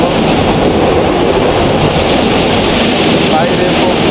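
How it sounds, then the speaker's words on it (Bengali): The Paharika Express runs from Sylhet to Chittagong in Bangladesh, heard from inside the train as a loud, unbroken rumbling roar of wheels and carriage rattle that never lets up across the whole stretch. "তারপরেও ট্রেন জার্নি ভালো লাগে, ট্রেন জার্নি করতেছি"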